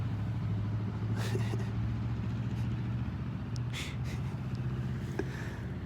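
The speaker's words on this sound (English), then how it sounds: "Here comes this loud truck driving behind me." A loud truck drives past behind the listener outdoors near a Target store, a steady low engine rumble and drone that fades slightly partway through, with faint scattered background noises.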